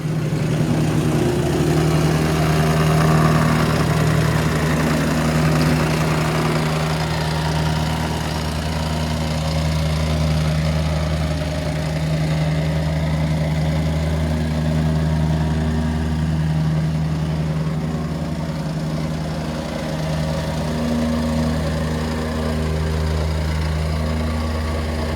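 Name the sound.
plate compactor engine compacting sand for block paving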